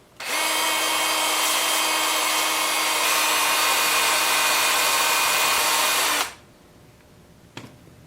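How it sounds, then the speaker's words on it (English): Power sander working a cherry crotch wood bowl at a workbench, a loud, steady high whirring drone for about six seconds that cuts off abruptly, followed by faint handling noise. "I just have this little bit here to sand up, and I'll do that over here on the workbench"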